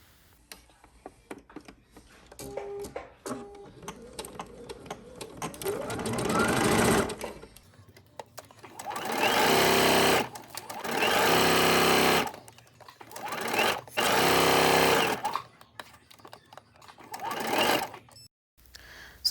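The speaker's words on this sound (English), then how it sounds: "you're going to stitch the front and the back at the sides" A sewing machine runs in bursts, stitching the front and back side seams of a dress, with several loud sustained runs separated by pauses and quieter handling sounds near the start.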